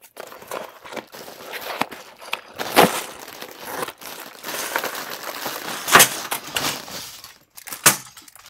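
Taped packaging around a figure-building kit being ripped open by hand: close, crinkly tearing and crackling with sharp snaps and rustles scattered through, no talk.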